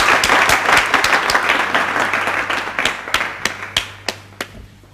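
Audience applause at a charity event for needy students, dense clapping that thins out into scattered, separate claps near the end, with a low steady hum underneath.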